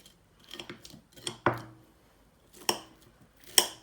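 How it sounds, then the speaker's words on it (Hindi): Knife cutting cooked chicken pieces against a plate or board, a handful of sharp clinks and taps scattered irregularly with quiet gaps between them, close and fairly soft. "चिकन पीसीस को हम लोग यूं काट लेंगे"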